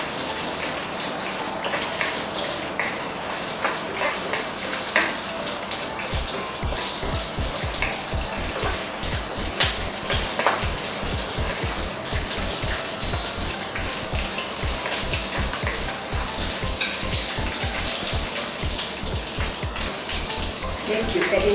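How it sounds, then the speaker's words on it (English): Scallion frying in a wok, a steady, dense sizzle and hiss running continuously for about twenty seconds, close and fairly loud, with faint voice underneath. "And the scallion. Fry until it's fragrant."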